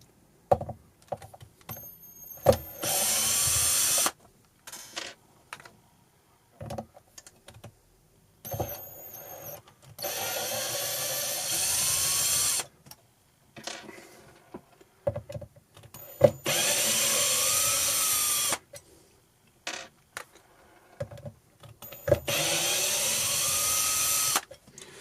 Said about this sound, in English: I'll use a drill for this, make it a bit quicker.